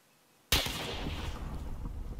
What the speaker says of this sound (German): Hast du den Sniper-Schuss abgesetzt?